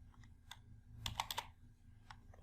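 Typing on a computer keyboard: a short, quiet run of key clicks, a few spaced taps, then a quick cluster of keystrokes, over faint room hum.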